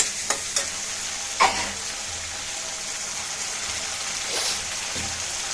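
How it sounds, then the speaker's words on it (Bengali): Ginger being stir-fried in hot oil in a pan, with pieces of pointed gourd alongside, gives a steady bright sizzle under a few sharp scrapes of a spatula against the pan. "সেই আদাটাকে ভালো করে কষিয়ে নেই"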